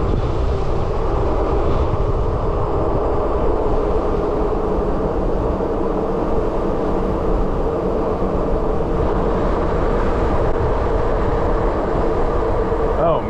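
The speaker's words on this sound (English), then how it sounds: "I'm sure with this wind, you can't hear a thing I'm saying." Heavy wind buffeting a microphone while riding a HeyBike Brawn e-bike on a throttle run in the Blue Ridge Mountains, a steady loud roar throughout that swamps any other sound.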